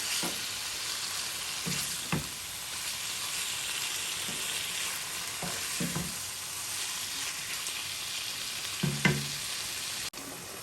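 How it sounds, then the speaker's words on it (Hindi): Chicken pieces frying in oil in a pan, a continuous even sizzle with occasional scraping stirs and a brief knock near the end, no one speaking. "बस इसको ऑयल में पहले मैं फ्राई करूँगी"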